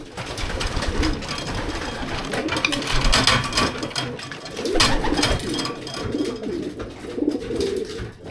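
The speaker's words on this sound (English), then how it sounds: "Here's number 2 now, look." A racing pigeon returns home to its loft amid a dense, steady wash of cooing pigeons and flapping, with a constant busy background and no clear pauses.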